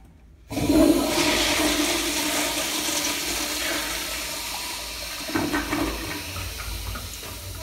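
A 1950s Crane toilet flushes with a sudden loud rush of water that settles into a steady swirling drain and refill, close and continuous, no voices.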